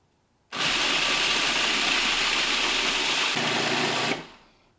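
A spice grinder whirs loud and close while grinding chili powder, switching on abruptly, holding a steady high-pitched spin for about three and a half seconds, then winding down.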